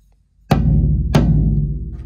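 Two drum hits, the first at about half a second and the second just over a second, each with a sharp attack and a ringing tone that stays fairly steady. The drum is damped with a Moongel pad, and no one speaks.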